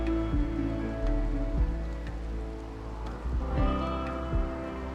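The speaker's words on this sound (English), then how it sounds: "Yes, it started raining." Rain in RimWorld, a soft continuous patter over a low ambient hum, with a few faint thuds and a brief musical tone rising midway.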